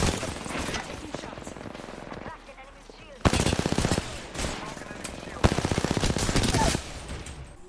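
Loud, close machine-gun fire in a video game, with long rapid bursts broken by short pauses and talking voices in between.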